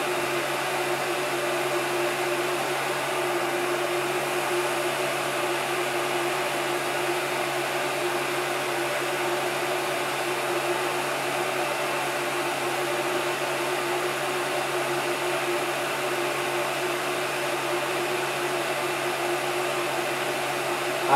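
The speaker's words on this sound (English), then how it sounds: "I'm going to quickly turn off the heat gun while I try to hold this in the proper place." A heat gun blows hot air steadily onto an acrylic piece being bent for jewelry, giving a constant, loud, unbroken whooshing hum with no pauses and no talk.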